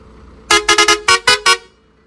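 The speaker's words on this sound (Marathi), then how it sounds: "हॉर्न तर भाई खतरनाक" A luxury bus parked in Virar sounds its horn in six loud, close toots: two quick groups of rapid blasts separated by short gaps, each bright and brassy, over a low idling background.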